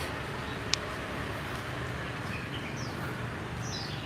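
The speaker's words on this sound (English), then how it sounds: "I love the sounds of the birds." Birds chirp faintly in a quiet city alley, a few short high calls scattered over a steady low background hum with one sharp click near the start.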